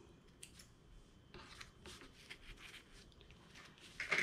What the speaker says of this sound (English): Cut my loose threads.